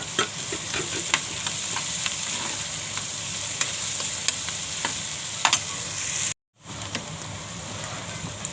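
Six green chillies and two large onions fry in a pan, giving a steady sizzle broken by frequent spatula clicks and scrapes, with a brief silent gap near the end before the frying resumes.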